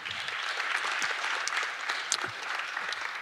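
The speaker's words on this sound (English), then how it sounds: "give these guys another round of applause" Brisk round of applause from a group of coaches at a physical literacy and movement preparation session, dense clapping at close range with no speech.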